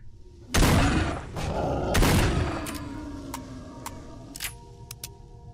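Two loud close gunshots in the S.T.A.L.K.E.R. Shadow of Chernobyl video game, each with a booming decaying tail, followed by several sharper fainter clicks and shots.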